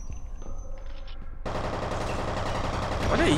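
Gunfire in the PC shooter F.E.A.R. erupts suddenly into a dense, continuous burst of rapid automatic shots, loud and close, following a quieter stretch.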